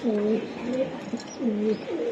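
Several soft, rounded coos from a black racing pigeon repeat in a rolling rhythm, close and clear.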